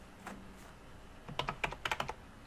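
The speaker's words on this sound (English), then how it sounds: "As you start typing" Typing on a computer keyboard while adding members in Microsoft Teams, a couple of isolated taps followed by a quick flurry of crisp, close keystrokes, with no voices.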